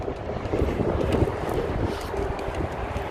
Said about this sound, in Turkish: Evde görüşürüz çünkü çok rüzgarlı şu anda.